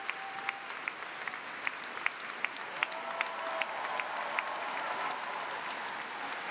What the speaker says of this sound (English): There's Matteo Rizzo leading the applause over with the rest of the Italian team.